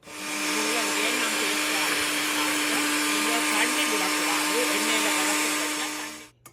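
A mixer grinder blending radish whirs steadily at high speed, a loud continuous motor drone that holds evenly before cutting off at the end.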